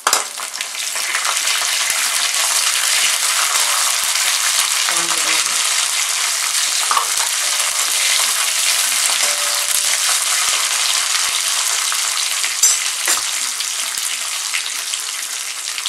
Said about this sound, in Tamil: வந்து வேர்க்கடலை ஆட் பண்ணிக்கிறேன்